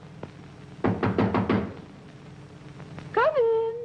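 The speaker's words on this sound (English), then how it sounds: "Hark! Who knocks?" Knocking on a door in a 1940 film melodrama: a fairly loud series of five quick raps, preceded by a faint single tap, followed by a brief rising whistle-like tone.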